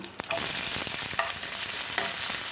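Oil sizzles loudly and steadily as sliced onions fry, with a few clinks and scrapes of stirring, close up.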